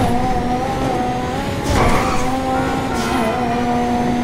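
A Furore GT car in GTA 5 on a top speed run, its engine holding a steady, loud droning whine with a brief surge partway through, close and continuous.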